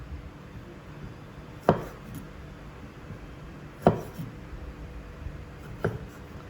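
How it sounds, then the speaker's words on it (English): Cherry tomatoes are cut on a chopping board: three separate, well-spaced knife thunks against the board, close and fairly loud, with quiet pauses between. "now we're going to cut up the cherry tomatoes"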